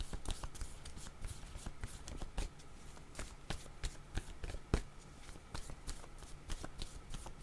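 Tarot cards are shuffled close by in a steady run of soft riffling flicks and slaps that carries on throughout at a low, even level.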